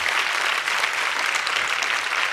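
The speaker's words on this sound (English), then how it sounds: "Loud claps." Loud, sustained applause from a crowd at a company kick-off event, dense clapping filling the whole stretch without a break.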